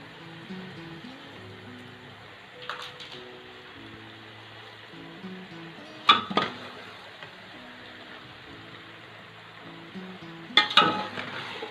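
Boiled macaroni gets stirred into a chicken mixture in a pan, with a low steady sizzle and a few sharp scrapes and clinks of the spoon against the pan. Someone speaks briefly.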